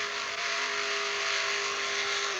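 NASCAR stock cars racing in a video game, a loud, sustained engine whine at high revs holding a steady pitch, with a dense roar of other cars on the track beneath it.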